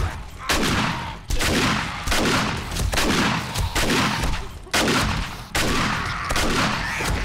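Repeated heavy shotgun blasts in the zombie survival game 7 Days to Die during a horde night, six or seven loud booming shots at roughly one-second intervals, each with a long rumbling tail, no speech.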